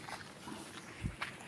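A dog in a narrow village lane gives a faint, distant bark or two near the end, over quiet outdoor ambience.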